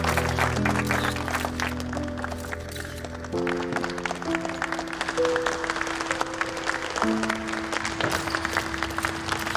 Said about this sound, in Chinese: 现在让我们用最热烈的掌声欢迎他们上台